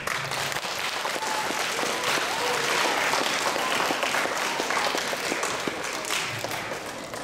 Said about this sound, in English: we should have a little round of applause for the teachers